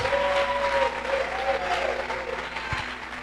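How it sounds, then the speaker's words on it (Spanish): A church congregation applauds during a sermon, steady clapping running under a sustained tone from music or a held voice, fairly loud throughout. "Vamos, dele el mejor de los aplausos."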